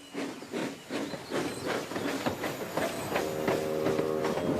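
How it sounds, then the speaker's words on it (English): A steam locomotive in the Trainz railway simulation game chuffs away in rapid rhythmic puffs with hissing steam, followed by a sustained tonal whistle-like sound near the end. ""It might," said Thomas, and he puffed away."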